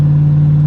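Straight-piped Rolls-Royce limousine exhaust rumbling close and loud, a deep steady drone with faint rattles, brief and continuous without talk.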